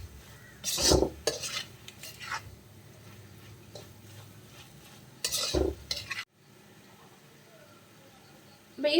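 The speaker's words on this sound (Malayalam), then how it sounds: "അതും കൂടെ ചേർത്ത് നമുക്കൊന്ന് വഴറ്റി കൊടുക്കാം." Broccoli and pepper powder are sautéed in a pan, a spoon scraping through them in two bursts of stirring over a low sizzle, close up, with a quiet pause afterward.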